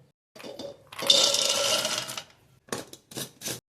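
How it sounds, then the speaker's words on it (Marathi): A mixer grinder grinds sugar fine for kaju katli in short bursts: one longer whirring run, then three quick pulses, loud and close, with no talk. "ही साखर मी बारीक करून घेते."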